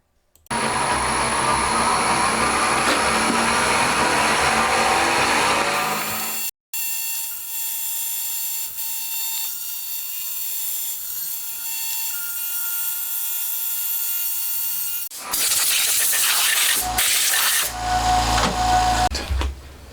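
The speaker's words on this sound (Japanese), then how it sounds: "あとは表裏の表面を1枚削ってい肌を取っていきます。" A milling cut facing the surface of an intake manifold plate for a four-cylinder Honda Monkey (CD125 four) engine build: a loud, steady mechanical whine and grind, briefly cut off, then resuming with shifting tone.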